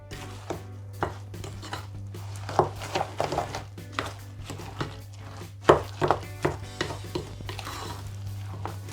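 An apple cake mixture for a fondant aux pommes is worked together in a bowl with repeated knocks, scrapes and thuds at an irregular pace over a constant low hum.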